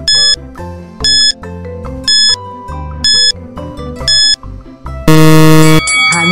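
Quiz countdown timer effect for a grade 4 science lesson on soil types: a loud, steady pattern of repeated electronic beeps and tones in a regular rhythm, ending in a sustained buzzer-like blast, with no talking.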